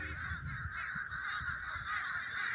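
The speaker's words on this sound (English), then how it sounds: "That's a lot of birds," A big flock of crows caws outdoors, harsh overlapping calls forming a thick, continuous din that stays loud and even from start to finish.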